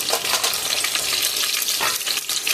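Mustard seeds, onion and dried red chillies frying in hot oil give a loud, dense crackling sizzle, close and continuous with bursts of spitting and a stir.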